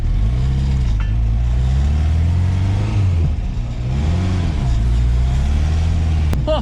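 A restored Talbot Simca car engine runs loud and close, holding a steady idle with slight rises and dips in pitch and no talk over it.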